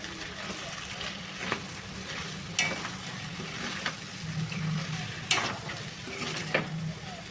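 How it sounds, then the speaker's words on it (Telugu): Raw banana and tomato curry with chilli powder being stirred in a pan, a steady sizzle of frying with scraping spoon strokes against the pan at intervals, close and moderately loud. "కారం వేసేసి ఒకసారి కలిపేసుకుందాం"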